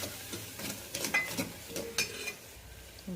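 Turmeric and salt being stirred into a pan for an Andhra-style dry field bean sambar, with soft scraping and clinking of a spoon against the pan in short irregular bursts, close and fairly quiet, no talking.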